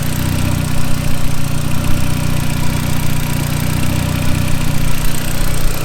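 Audi S3 engine idling with no turbo boost, a loud steady close-up drone with a faint rhythmic knock and no talk.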